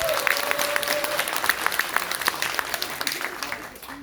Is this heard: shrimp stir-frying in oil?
no